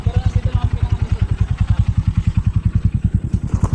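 A motorcycle engine runs with a steady, rapid low throbbing, close and loud, while it is stuck in soft ground and being lifted free.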